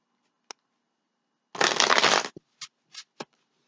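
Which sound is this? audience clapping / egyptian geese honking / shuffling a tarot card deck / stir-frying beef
shuffling a tarot card deck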